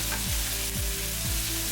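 Garlic frying in a pan, a steady dense sizzle with three swooping stirring strokes spaced evenly across it, close and fairly loud with no voices.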